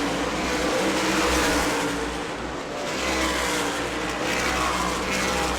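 Race cars at the New Smyrna World Series accelerate in a pack, making a continuous loud engine roar that swells and dips slightly across several seconds, with no one talking.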